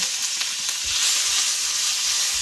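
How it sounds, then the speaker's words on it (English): Onions and garlic sautéing in a pan give a steady, close hiss that holds evenly throughout, with a few faint low knocks of the pan underneath and no voices. "So we'll saute onions and garlic."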